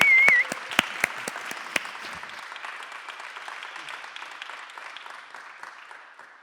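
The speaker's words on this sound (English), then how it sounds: "I think that we can all applaud what they just made." Audience applause at a datacenter company's conference, starting with loud, distinct individual claps over a dense patter and gradually thinning and fading away over several seconds.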